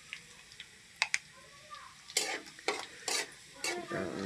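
A few cumin seeds dropped into hot oil after onions, crackling in scattered pops at first, then a run of louder sizzling bursts and stirring scrapes close by.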